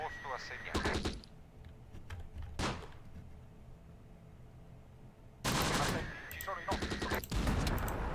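Gunfire in the Close Combat war video game, sharp bursts of shots and rattling volleys with quieter gaps between, a heavy cluster near the end, with a voice talking over parts.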